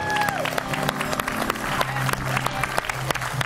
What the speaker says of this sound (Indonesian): tepuk tangan buat Dini